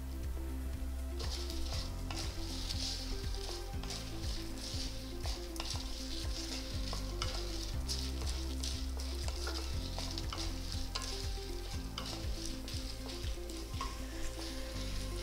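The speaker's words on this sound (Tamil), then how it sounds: "ஜஸ்ட் இவ்வளோண்டு வெந்தயம் போடுறேன்" Fenugreek seeds sizzling in hot oil in a pan, a loud continuous frying hiss with repeated stirring scrapes of a spoon over about fifteen seconds.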